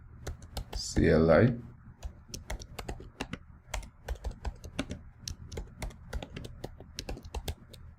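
Close computer keyboard typing of a command, a quick patter of clicky keystrokes following a brief burst of someone speaking.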